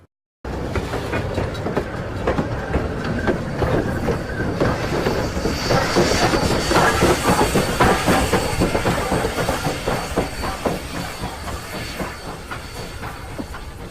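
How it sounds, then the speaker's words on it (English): Steady rolling rumble and clatter of train running gear on rails as the train backs across a crossing, with hissing and rhythmic clicks, loud and close, continuing throughout with no talk. "let's hear the running gear go by as the train backs across the crossing"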